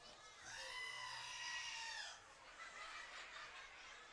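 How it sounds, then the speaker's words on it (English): A goat's bleating scream rings out at a minor-league baseball game, one long wavering cry of about a second and a half, loud over the crowd murmur, followed by fainter stadium ambience. "Fans loving the goat scream over there."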